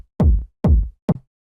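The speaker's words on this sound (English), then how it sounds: "So let's just start off with a basic kick like this." Three punchy techno kick drum hits, dry and isolated, each a short deep thump with a quick click on top, spaced evenly with silence between.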